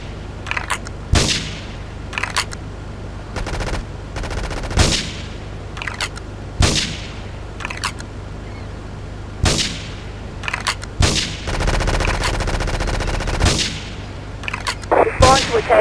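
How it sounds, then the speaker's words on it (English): Repeated sharp gunshots and bursts of automatic fire in Grand Theft Auto 3, spaced irregularly over a steady low rumble, with a longer sustained volley near the end. "Investigate reported gunfire and explosions."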